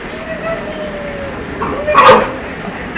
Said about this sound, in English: I'm gonna let my little doggies out.